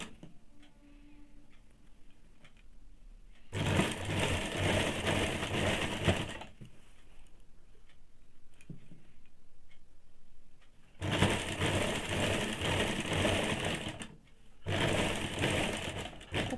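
A sewing machine stitches a blouse side seam in two bursts of rapid, steady running, each lasting a few seconds and separated by quieter pauses while the fabric is folded and repositioned.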